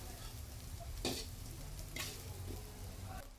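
Fish sauce sautéing in a pan for palabok gives a quiet, steady sizzle, broken by two or three sharp scraping stirs.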